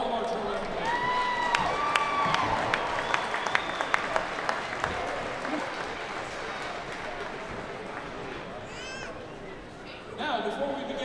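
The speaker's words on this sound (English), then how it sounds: "How about a nice round of applause for all of our tournament players?" Arena crowd at a regional hockey tournament applauds the players, a steady wash of clapping with some cheering, whistles and scattered chatter, loud and sustained before thinning slightly and swelling again at the end.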